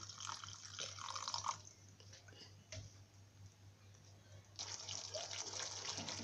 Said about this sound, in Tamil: நல்லா கொதிச்சுக்கிட்டு இருக்குது